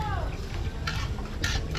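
Food sizzles in a pan during outdoor birthday cooking with neighbours, a soft steady frying hiss broken by a couple of brief scraping stirs of a utensil.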